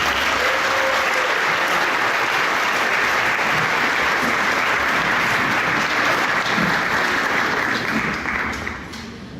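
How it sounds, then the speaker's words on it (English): Applause from the audience at a chamber of commerce breakfast, loud and sustained, a dense even roar of many hands clapping that carries steadily before easing off at the very end. "So let's give them a round of applause."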